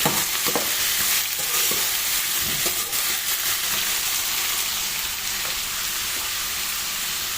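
Brinjal pieces sizzle steadily in hot oil in a pan while a spatula stirs them, with scraping knocks and a continuous frying hiss, close up and with no voices.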